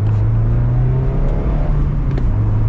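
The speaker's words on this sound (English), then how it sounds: "Ah, those shifts, those manual shifts are so good." Mazda Miata RF, 2023 model with a manual gearbox, pulling away and accelerating through upshifts, a steady engine drone rising in pitch with brief dips at each gear change, heard from inside the car with no talk.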